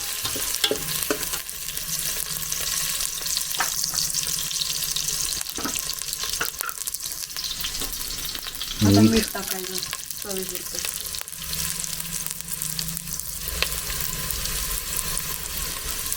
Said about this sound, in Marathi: कांदा जो भाजला जातो आहे ना परतला